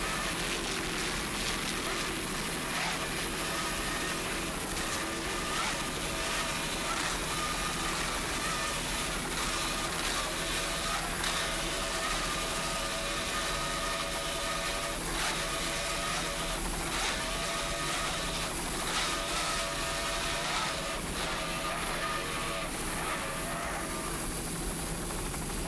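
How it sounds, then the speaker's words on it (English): Two 200 horsepower Mercury outboards power a B class racing powerboat at the 1986 Key West worlds, giving a continuous high, whining engine drone with shifting harmonics, steady and fairly distant, with a commentator talking over it. "Powered by two 200 horsepower Mercury outboards."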